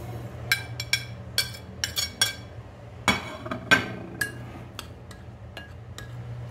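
Chopped potato, spinach, coriander, green chillies, onion and spices are mixed by hand in a bowl, with a spoon clinking against the bowl in irregular bright taps over a low background hum.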